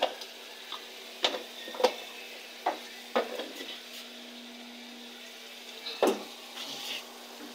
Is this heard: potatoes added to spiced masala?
yes